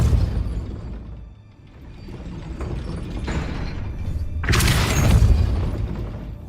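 A Hogwarts Legacy Depulso spell goes off in a dense game soundscape: low rumbling clatter builds, then one loud bright blast bursts out near the end, with no voices.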